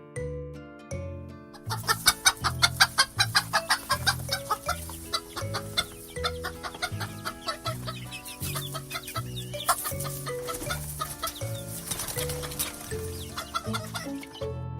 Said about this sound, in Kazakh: Мынау тауық. Тауық ко-ко-ко-ко-ко-ко-ко, ко-ко-ко-ко-ко-ко дейді.